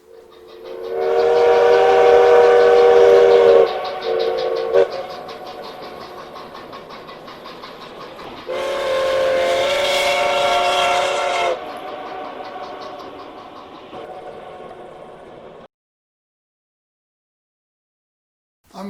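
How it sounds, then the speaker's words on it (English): An N scale model train runs on the Colorado Northwestern portable layout with a steam-style sound system, giving two long, loud whistle blasts over a steady engine rumble before cutting to silence. "I'm hoping this is the inaugural run of the Colorado Northwestern N-Scale Railroad"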